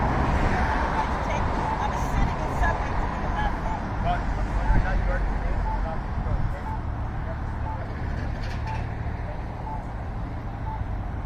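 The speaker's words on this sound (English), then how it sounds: "Too much traffic going by." Steady roar of street traffic going by at a busy intersection, continuous and fairly loud throughout, with faint horn-like tones and people talking over it.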